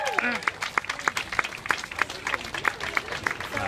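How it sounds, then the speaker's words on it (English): A crowd at an outdoor rally in Brisbane claps and cheers at a moderate distance, scattered hand claps and excited voices mixing together in lively, uneven applause. "Give yourselves a big round of applause."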